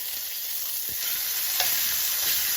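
Chops sear in a hot pan, giving a dense, even hiss of sizzling fat that holds steady for a couple of seconds, close up, with no one speaking.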